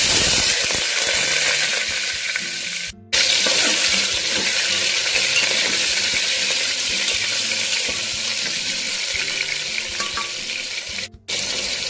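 Potatoes sizzling loudly in hot white oil with whole garam masala and a dried red chilli, a dense continuous frying hiss with faint scraping and stirring, broken by two brief silent gaps.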